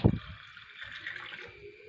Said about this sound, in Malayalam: ആവശ്യത്തിന് വെള്ളം കൂടി ചേർത്ത് കൊടുക്കാം